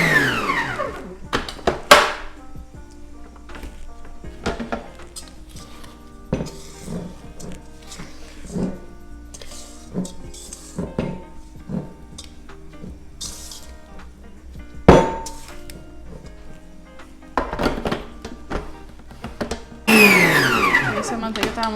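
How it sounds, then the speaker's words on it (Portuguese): An electric stand mixer whirs steadily at medium speed, beating cold butter and sugar for a homemade cake. Occasional clinks and clatter of the bowl cut through the motor hum, and a voice seems to talk over it. "E a batedeira pode ser também em velocidade média, não precisa ser a velocidade máxima da batedeira."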